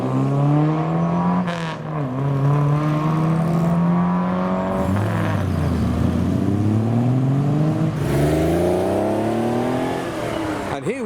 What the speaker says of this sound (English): We've got the MG Magnet leaving as well, in Dug Egg Blue. And the Pontiac Firebird